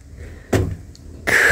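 An American-built LARC V amphibious transport vehicle has its door opened or closed: two solid clunks about three-quarters of a second apart, the second one longer and brighter, close by with no talking.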